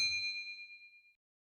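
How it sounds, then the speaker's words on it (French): A single bright bell ding rings out clearly and decays smoothly over about a second, leaving silence after. "cliquez sur cloche de notification"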